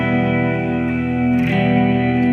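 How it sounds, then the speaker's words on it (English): A sustained guitar tone through a TC Electronic Hall of Fame reverb pedal, washed in heavy reverb and echo, loud and droning, with a brief shimmering swell partway through. "it's already got a wild"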